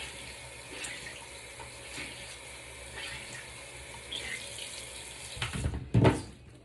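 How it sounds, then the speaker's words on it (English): Water runs steadily from a tap to wet a Real Techniques makeup sponge, a continuous close hiss that swells into a brief louder splash near the end. "I'm just going to wet my sponge by Real Techniques"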